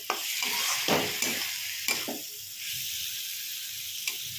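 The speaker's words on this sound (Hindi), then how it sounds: "अब हम एक बड़े साइज के टमाटर को बारीक कट किए थे, उनको भी ऐड कर लेंगे। इनको भून लेंगे मसाले के साथ।" Chopped large tomatoes frying with spices in a pan over medium flame, with a steady sizzle broken by a few stirring scrapes of a spoon against the pan.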